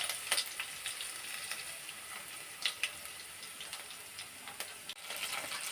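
Cumin seeds, crushed garlic and a dried red chilli sizzle and crackle in hot oil for Andhra-style pappu, a steady close hiss broken by sharp popping spurts, with no voices.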